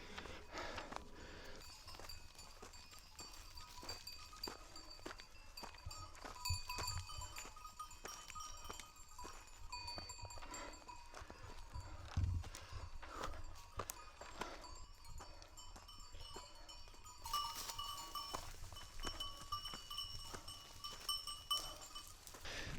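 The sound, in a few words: goats on mountain trail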